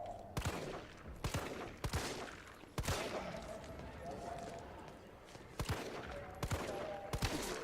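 Repeated gunshots in the Resident Evil video game, sharp evenly spaced cracks over a dense game soundtrack, with a player talking throughout.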